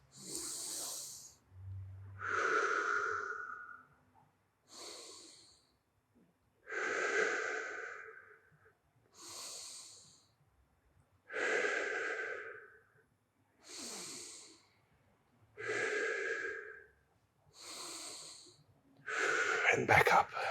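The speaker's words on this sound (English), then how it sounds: "Deep breaths here. Take 5 deep breaths." Slow, deep breaths during a yoga cobra pose, about nine close, loud inhale-exhale cycles with an airy, slightly raspy tone and short pauses between them.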